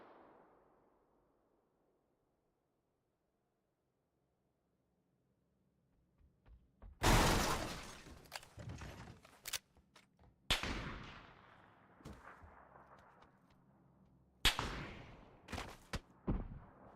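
Gunfire in PUBG breaks a long quiet stretch: sharp, loud cracks in scattered single shots and short bursts, several close and some echoing, with no voices.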